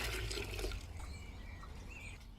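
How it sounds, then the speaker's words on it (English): Water splashes and gurgles as it is poured from a garden water butt into a container, a close, continuous liquid sound lasting a couple of seconds. "Rose is just getting some water out of our water butt and putting it into here"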